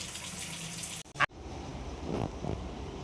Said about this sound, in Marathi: त्यासाठी डाळ स्वच्छ धुवून घ्यायची.